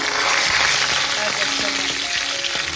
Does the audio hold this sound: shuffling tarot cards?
no